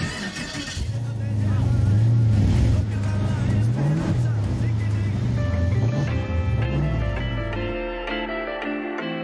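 A famous car from French cinema starts up and revs hard. The steady engine drone rises and falls in pitch as the throttle is blipped, and voices talk over it before it settles and fades.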